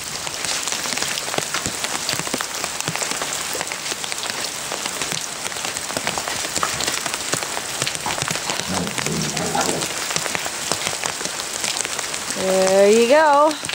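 Rain pours onto a yard on a foggy day in a dense, steady hiss of drops hitting surfaces, with a short whining sound rising near the end.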